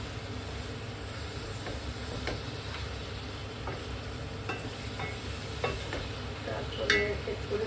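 Ginger and garlic frying in mustard oil for a biryani, giving a steady low sizzle with occasional stirring scrapes and light clicks throughout, no talking.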